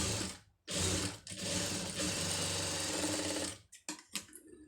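A sewing machine stitches a designer blouse with no canvas, running in loud, steady mechanical bursts with a rapid needle rattle. It stops briefly between runs, then ends in a few short taps.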